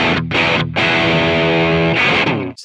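Gibson Les Paul Studio played through a default Marshall-style distorted amp tone in Amplitube 5, loud saturated chords rung out in a few bursts with brief gaps, the last one sustaining before cutting off.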